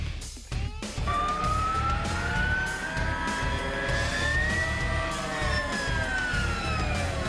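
A Harley-Davidson LiveWire electric motorcycle gives a loud, rising and falling electric motor whine, close and continuous for several seconds, over low road rumble.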